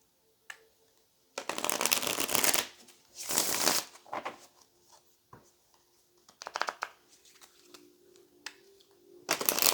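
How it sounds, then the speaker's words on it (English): Tarot cards being shuffled in several bursts of crisp riffling, with quiet pauses between, close up. "All right, last shuffle"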